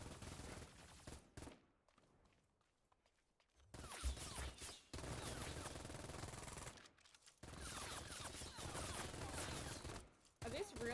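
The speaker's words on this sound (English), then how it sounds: "I think there's somebody shooting you from back here." Bursts of automatic gunfire from the online shooter Cyber Hunter, loud and dense in several long volleys broken by short quiet gaps, with a voice talking in places.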